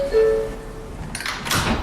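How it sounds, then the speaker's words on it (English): Doors close on an NYC Subway R142A train in the OpenBVE simulator: a steady hum with a faint tone gives way to a hiss and sliding thud of the doors shutting near the end. "Stand clear of the closing doors,"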